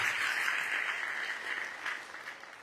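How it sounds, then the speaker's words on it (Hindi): An audience claps at a community event in Shahjahanpur, a steady crowd applause that is loudest at the start and gradually thins and fades toward the end. "एक जोरदार तालियां होनी चाहिए लोगों के लिए।"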